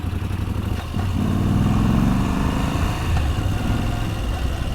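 A Moto Guzzi V85 TT motorcycle engine, heard while riding: a steady, close mid-pitched drone with a throbbing beat that swells slightly after the first second and holds at moderate revs throughout.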